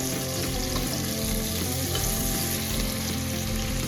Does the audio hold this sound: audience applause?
no